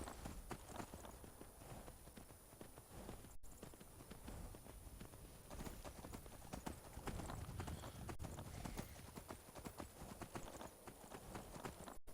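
Steady clip-clop of horse hooves in the video game Skyrim at a brisk, continuous pace, fairly close, with a faint background hum throughout.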